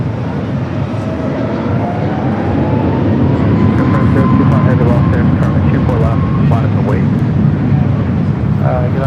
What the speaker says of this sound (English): the China Southern 777 arriving there on the south side